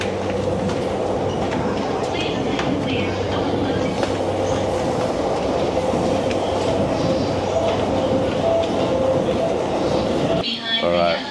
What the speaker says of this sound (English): Japanese train, so exotic.